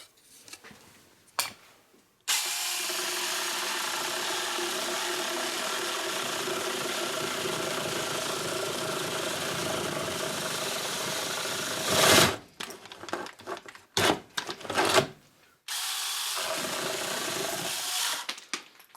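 A Sainlogic 6-inch mini chainsaw cuts through dense pressure-treated decking wood, a long steady high whine near the mic, then stops and gives a few short revving bursts before a second run.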